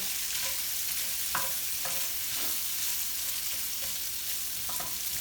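Chopped onions and bacon fry in a pan with a constant hissing sizzle, broken by a few scraping strokes of stirring that stand out close by.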